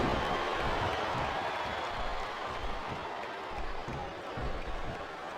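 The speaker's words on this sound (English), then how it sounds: "It sounds like this capacity crowd has something on their minds" A capacity arena crowd in the WWE 2007 wrestling video game keeps up a steady, dense roar of cheering and clapping, with no clear pauses.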